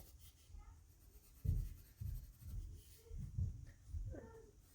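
Pencil strokes scratch and rub across a sketchbook page in a series of short, irregular bursts, close and fairly quiet.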